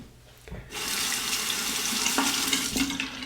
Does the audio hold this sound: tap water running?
yes